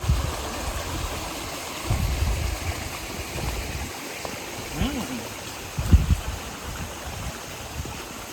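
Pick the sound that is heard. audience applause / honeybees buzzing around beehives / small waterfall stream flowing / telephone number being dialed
small waterfall stream flowing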